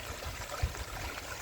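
Strong rainy-season floodwater rushes past where fish are being caught, a faint, steady gurgling flow with one soft splash midway.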